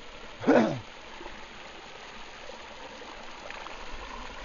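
Water runs from a village fountain at the Acı Pınar spring in Sivas's Karayün district, a soft, steady trickle heard throughout. A short burst of a voice comes near the start.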